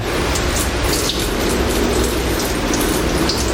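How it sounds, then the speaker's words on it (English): Fuel pours steadily and continuously into a truck bed auxiliary fuel tank, a close, even gushing splash with no talking. "So now we can take some fuel and pour it in."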